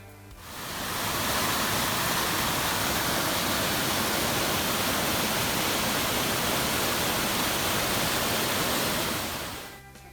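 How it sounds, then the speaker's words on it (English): A waterfall by a creek along a trail in Virginia, a broad, steady roar of falling water that fades in, holds loud and close for several seconds, then fades out, with no voices. "we just had to stop and watch the waterfall for a few minutes"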